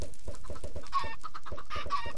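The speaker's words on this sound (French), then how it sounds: "Arrête avec tes poules, toi!" Chickens in the Minecraft modpack Agrarian Skies 2 cluck in rapid, repeated bursts over a steady bed of game sound, with occasional higher squawks, fairly loud and continuous, with no speech.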